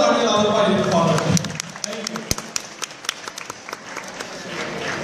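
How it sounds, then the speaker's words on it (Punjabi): Audience at a Miss and Mrs Punjaban pageant in Winnipeg clapping, dense applause at first that thins to scattered individual claps, with some talk underneath. "ਇੱਕ ਵਾਰ ਜ਼ੋਰਦਾਰ ਤਾੜੀਆਂ ਲਾਓ"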